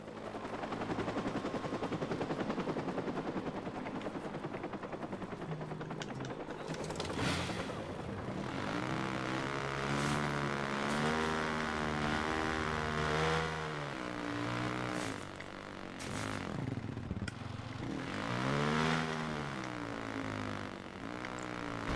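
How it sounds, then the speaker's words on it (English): A helicopter in the Watch Dogs video game flies continuously, its rotor drone steady and loud throughout, with sharp bursts and shifting engine tones layered over game music and effects. "So I gotta tail this helicopter to Bloom's headquarters."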